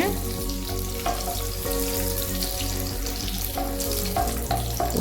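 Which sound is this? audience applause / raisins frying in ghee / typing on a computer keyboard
raisins frying in ghee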